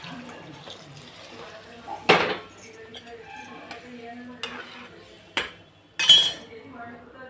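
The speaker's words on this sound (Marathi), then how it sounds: "पाणी टाकून घेऊ" Hot water is poured into vegetable pulao with paneer, cashews and raisins in a pot. Scattered metal spoon clinks and scrapes sound close, with a few louder splashing bursts, and a voice is faintly present.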